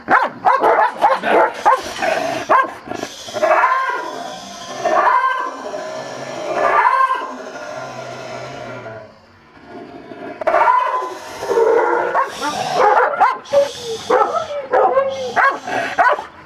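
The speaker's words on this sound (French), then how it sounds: "on va travailler un chien qui est assez virulent" An aggressive dog barks repeatedly in loud, sharp bursts with short pauses, close by, with some whimpering yips mixed in, during a dog training session.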